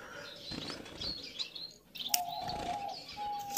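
Bengalese finches in an aviary give short, bright chirps and tweets, a few clear call notes standing out over a soft, busy background with no one talking.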